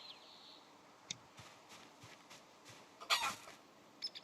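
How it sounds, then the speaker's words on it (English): A chicken in the video game Project Zomboid gives a few soft, brief clucks over quiet background hiss, with one slightly louder burst of squawking near the end. "Come here, you stupid chicken."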